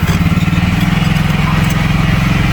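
A Honda Beat scooter engine idles right after a CVT installation, a loud, close, even putter with a steady rapid pulse that runs the whole time and has no voices over it.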